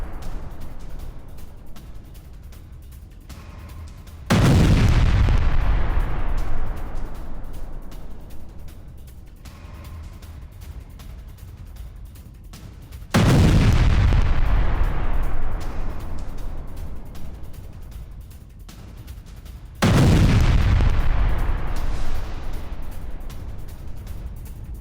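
Loud explosions from TM-62 anti-tank mines blowing up a Russian tank, three heavy blasts spaced several seconds apart, each a sudden boom that decays into a long rumbling tail.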